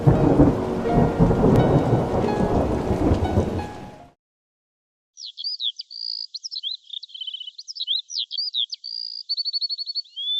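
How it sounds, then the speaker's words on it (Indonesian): Heavy rain pours with rolling thunder for about four seconds, then cuts off abruptly and a bird song follows in repeated chirping phrases. "Hujannya masih deras."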